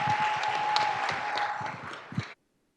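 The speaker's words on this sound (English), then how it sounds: "All right, big round of applause again." A crowd at a school district governing board meeting gives a sustained round of applause. The clapping is dense and mixes with cheering, then cuts off abruptly.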